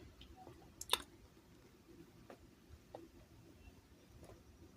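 Computer mouse clicks while working in an Excel spreadsheet, one sharp click near the start followed by a few fainter, scattered clicks over quiet background.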